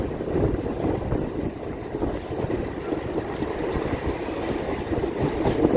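Steady rumble and rhythmic rattling of a moving local train between Amghata and Krishnanagar, continuous and fairly loud throughout, with no voices.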